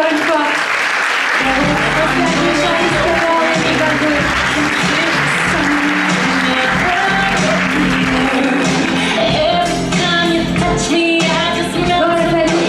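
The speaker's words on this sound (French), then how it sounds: "Merci, on peut l'applaudir encore une fois." A live audience applauds Miss Océane at the 2023 Miss Côte d'Or election, with sustained, loud clapping filling the room and a few shouts breaking through.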